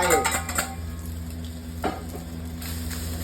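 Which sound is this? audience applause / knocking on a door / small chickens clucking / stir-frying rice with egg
stir-frying rice with egg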